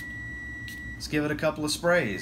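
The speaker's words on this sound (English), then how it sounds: "I apologize for the oven beeping in the background," A steady high electronic beep tone from an oven holds in the background while someone talks nearby.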